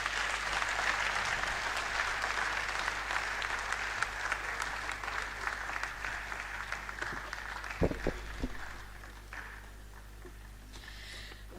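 A lecture hall audience at a university convocation lecture applauds the chairman with steady, dense clapping that fades gradually toward the end, a few louder claps standing out late.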